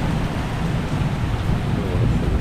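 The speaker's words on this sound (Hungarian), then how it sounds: "Ennyit a viharról." Steady, close rain pours down during a thunderstorm, with a continuous heavy patter and low rumbling underneath for the whole stretch, no voices present.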